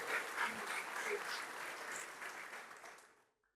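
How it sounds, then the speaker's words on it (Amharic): Audience applause at an Ethiopian church's 31st general assembly in Jimma: dense, lively clapping from a large crowd that fades out to silence near the end. "ማጨብጨብ ካስፈለገም እዚህ ላይ ስለሆነ ኃይላችሁንም ብትጨርሱ ብታጨበጭቡ ደስ ይለናል"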